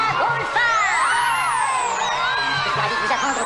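A game-show audience cheers, whoops and yells loudly for a woman from Brighton Beach, Brooklyn, who has just won the jackpot, a dense crowd roar running steadily through the moment.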